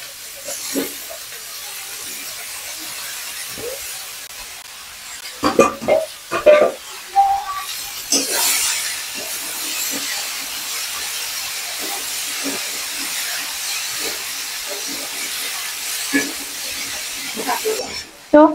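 Cut vegetables, potol (pointed gourd) and potato, frying in oil with turmeric in a pan on a home stove, giving a steady hiss and sizzle throughout, with brief stirring clatters and a short burst of louder noise near the end.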